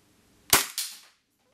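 A Cybergun Colt 1911 Mk IV airsoft pistol fires a single sharp, loud shot using a Tokyo Marui magazine, its crack trailed by a second burst of gas release that fades quickly into silence.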